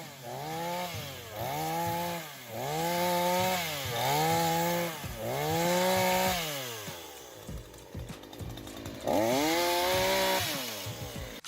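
A chainsaw fitted with a hedge-cutting comb attachment clamped to its bar revs up and down in repeated strong surges, each burst rising and falling in pitch, loud and close with no talking.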